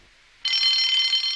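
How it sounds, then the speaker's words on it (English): After a brief faint lead-in, an electric alarm bell in a Trainz railway remake of a Thomas the Tank Engine story rings continuously, loud and bright and steady, with no voices over it. "Soon came the alarm."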